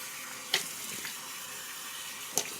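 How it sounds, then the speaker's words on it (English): Water from a tap runs steadily onto shaving soap in a bathroom sink, a soft continuous hiss at low level punctuated by two small splashy clicks, with no talk. "put some water on the"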